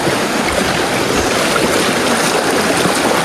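A small creek flows steadily, giving a constant close rushing, splashing wash of water with no voices.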